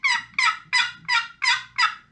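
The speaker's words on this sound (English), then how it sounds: "the National Wild Turkey Federation Jake's Quaker Boy box call" Six sharp, evenly spaced clucks from a Quaker Boy box call, a National Wild Turkey Federation Jake's model used as a spring turkey call, each a bright raspy burst standing close and loud with short gaps between them.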